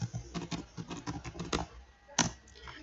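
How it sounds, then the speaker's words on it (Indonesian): Computer keyboard keys tapped in quick irregular bursts to enter an IP address at a command prompt, close and moderately loud, with no speech over it. "Kita ketikkan IP."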